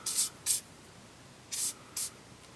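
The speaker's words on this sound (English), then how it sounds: "I'm gonna put some PB Blaster brake-free compound on the threads here, just to loosen it up a little." PB Blaster penetrating compound sprayed onto the threads of a rear downstream oxygen sensor on a 1997 Toyota Camry V6: four short hissing aerosol bursts in two pairs, close and clear, with no talking.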